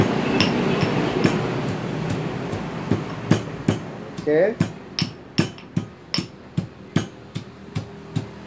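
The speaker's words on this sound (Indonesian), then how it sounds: "Kalau saya suka menumbuk agak halus, biar nutrisinya itu bisa meresap." Ginger, turmeric and kencur pounded finely with a pestle for a spiced drink, a series of sharp, evenly spaced thuds, near and loud, with a brief spoken word partway through.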